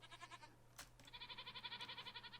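Goats bleat in a Minecraft zoo mod, a wavering nasal bleat followed by a longer quavering one, close and fairly quiet over a faint steady hum with no talk.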